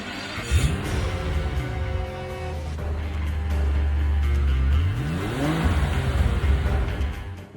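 An Aston Martin DB7 Vantage V12 revs up and down close by, with a rising and falling engine note that swells through a sustained high-rev stretch before dropping back, heard alone without talk.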